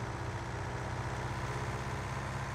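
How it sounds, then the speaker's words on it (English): Low, constant tractor engine rumble at idle in Farming Simulator 19 on PS4, moderately quiet and steady from start to finish, no talking. "So as we zoom away, the engine gets quieter and quieter,"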